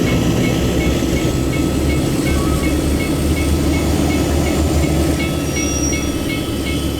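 A DE 24000 diesel locomotive in a train simulator runs at full throttle, giving a loud, steady, deep engine drone with ringing mechanical tones and rail clatter throughout, and no pause.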